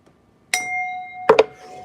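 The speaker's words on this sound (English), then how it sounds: "You get a bell for joining the stream, Ivan." A bright bell chime rings once with a sustained ringing tone, then a quick double clink sounds, alone and close.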